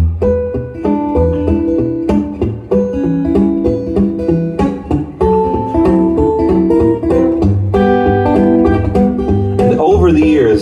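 Fingerstyle guitar, performed live at a theatre, plays a busy picked pattern with a bass line under melody notes for about ten seconds, close and loud, with no talking.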